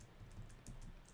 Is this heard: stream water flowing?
no